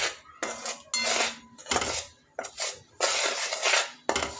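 A spoon stirs and scrapes a peanut and jaggery chikki mixture with a spoonful of ghee in a metal pan, giving close, repeated clattering bursts with short pauses between strokes.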